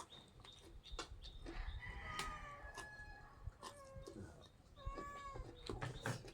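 A cat meows several times, with rising and falling cries amid background rustling and noise; a few meows overlap or repeat in quick succession.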